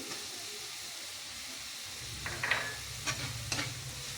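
Onion frying in a pan with ginger-garlic paste and chopped tomato, a low steady sizzle with a few soft stirring scrapes and clinks near the end, quiet and close with no talking.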